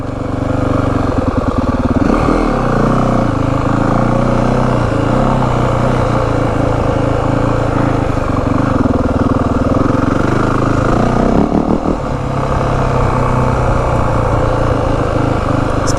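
A 2025 Yamaha WR450F dirt bike rides close, its engine revving and easing through gear changes over sixteen seconds of steady loud running with wind and clatter.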